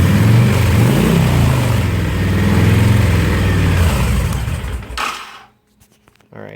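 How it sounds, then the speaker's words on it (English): Honda VTX1300 motorcycle engine idling with a low, loud rumble and slight rev swells, close by, then cut off abruptly near the end leaving near silence. "You can see the bike is running."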